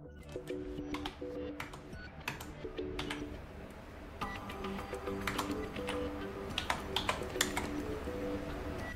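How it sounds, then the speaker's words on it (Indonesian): Rapid keystrokes on the keyboard of an Acer Predator 17 laptop as a serial number is entered, clicking in quick irregular bursts with brief pauses, close and clear, with no talk. "Saya akan mengetikkan SNID karena lebih pendek"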